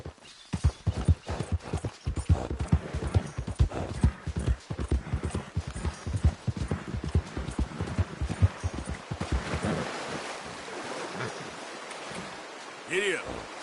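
Hooves clip-clop steadily on hard ground as a horse is ridden, a brisk rhythmic beat that softens toward the end, with a short spoken urging and faint voices in the background.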